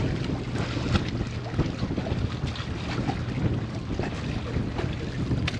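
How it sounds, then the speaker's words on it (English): Water surging into a Panama Canal lock chamber around a sailboat after the lock doors close, a steady broad rushing wash with wind buffeting the microphone throughout. "As soon as the lock door are closed, the water rushes in and we struggle to keep the boat centered"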